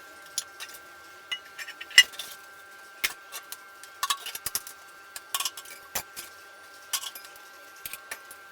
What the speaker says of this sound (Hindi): चलिए मैं बर्तन धो लेती हूँ फटाफट।